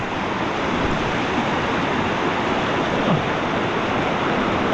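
The current of the Dumacaa River rushes in a dense, steady broadband wash, close and fairly loud, with no break throughout.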